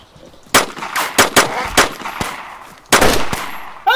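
Gunfire in DayZ Standalone: several sharp, loud shots in irregular bursts, a quick cluster of cracks followed by a pause and another close heavy shot, with no talking.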